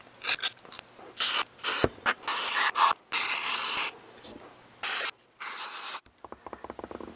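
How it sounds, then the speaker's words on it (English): Carb cleaner sprayed from an aerosol can onto small engine parts: a series of close, sharp hissing bursts of varying length, separated by short pauses, with faint handling clatter at the end. "I'm gonna go ahead and spray everything down with carb cleaner"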